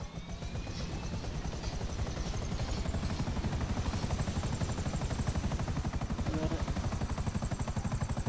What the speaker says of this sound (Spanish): Y que nos vamos en helicóptero hacia la letra N.